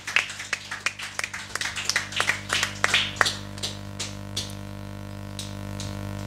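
Congregation in a church clapping in a quick, uneven burst of hand claps that thins out to scattered single claps and fades, fairly close, over a low steady hum.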